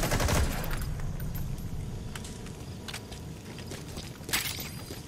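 Gunfire in Metal Gear Solid V, a video game, comes as a rapid automatic burst that opens the clip, followed by scattered shots and mechanical clatter. A single louder report lands near the end, all steady and with no one talking.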